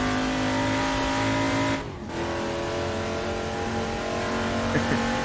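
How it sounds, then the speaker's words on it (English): A V8 touring car in Assetto Corsa roars loud and close, a harmonic engine snarl that dips briefly on a gear change before climbing again, with faint tire noise and no talking. "the roar of the V8"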